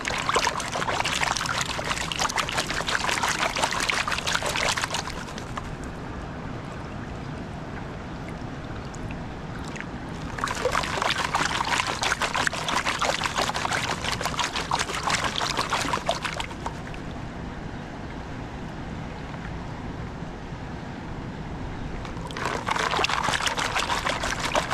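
Gold panning in a river in southern France: water sloshes and swirls in a pan in three loud bursts of about five seconds each, with quieter flowing water between them and no speech.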